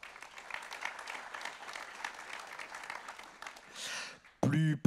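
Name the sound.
audience applause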